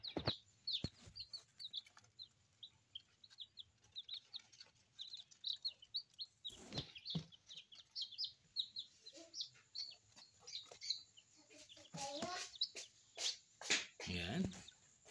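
Silkie chicks peep in quick, high chirps that come in a busy run, faint and close in a quiet space, with louder handling noises and brief knocks toward the end.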